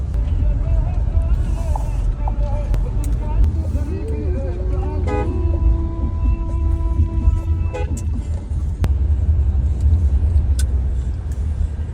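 An MG Hector's engine rumbles steadily from inside the cabin, with faint tonal beeps and murmured talk under the continuous road noise.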